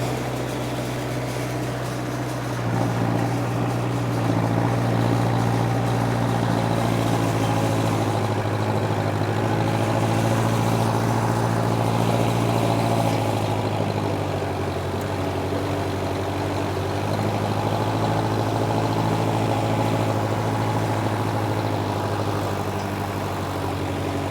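A 60 HP Sonalika tractor pulling a rotavator through a dry field, its diesel engine holding a loud, steady, close drone with heavy low rumble and mechanical churn throughout, with no talking.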